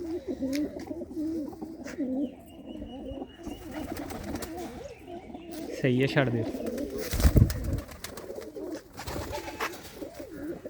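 Many female pigeons coo in a loft, making overlapping, rolling throaty calls throughout, while people talk nearby.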